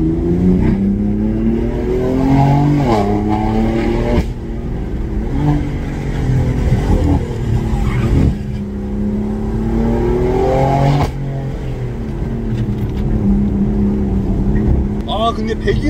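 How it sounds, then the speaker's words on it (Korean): A BMW F82 M4's exhaust roars loudly up close, revving up and dropping back several times through repeated gear changes, with occasional crackles. "근데 배기는 진짜 좋아요"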